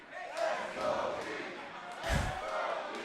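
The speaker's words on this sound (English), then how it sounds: "a crowd that was firmly behind Black Quebecois and more specifically against Christopher Cassidy is now chanting for the tag team champions" A wrestling crowd at an independent show in Port Coquitlam chants in rolling swells for the tag team champions, with a heavy thud partway through, all heard from within a fairly small room.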